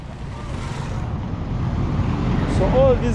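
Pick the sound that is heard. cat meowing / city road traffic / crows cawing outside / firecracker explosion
city road traffic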